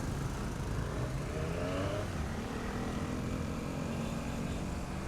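2019 Triumph Street Triple RS 765 motorcycle engine revving freely, a loud close rasp with a rising rev partway through before settling into a sustained engine drone.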